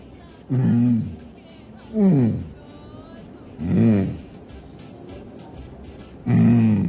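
A person imitates a lion's roar with four separate growling bursts spaced by pauses, delivered close to the listener.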